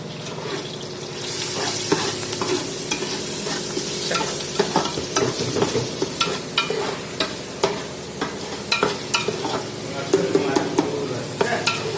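Chicken fries in a pan with a soft, steady sizzle, overlaid by frequent clattering stirs and scrapes of a utensil against the pan, close and moderately loud, with no one talking.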